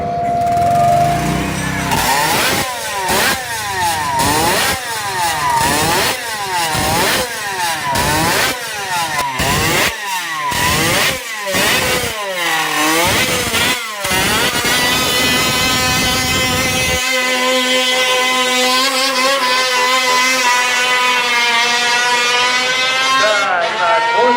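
Suzuki RP68 race motorcycle, a 50cc two-stroke three-cylinder from the late 1960s, revving hard in rapid rising bursts and then holding a loud, screaming high-pitched wail, close and alone.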